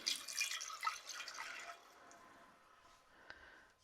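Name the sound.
pouring homemade teriyaki sauce into a container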